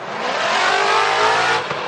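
Engine of a Nissan S14.5 drift car revving hard during a Formula DRIFT Top 16 event at Irwindale in 2016, a loud sustained roar with steady high revs and no speech.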